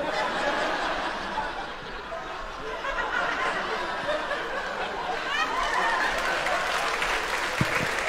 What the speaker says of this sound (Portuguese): Olha os evangélicos aplaudindo aí, que maravilha!